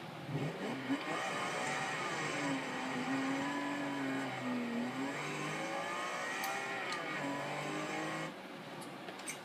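A Ferrari 575M Maranello V12 in the Forza Horizon 2 racing game accelerates hard, its engine note climbing through several gear changes in a continuous, loud revving run before cutting off near the end.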